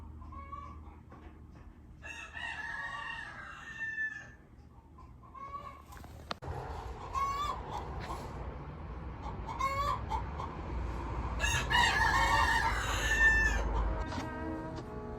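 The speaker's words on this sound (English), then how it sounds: "Can you hear the chickens?" Chickens cluck and squawk nearby while a rooster crows several times, with a low rumble in the background and no speech.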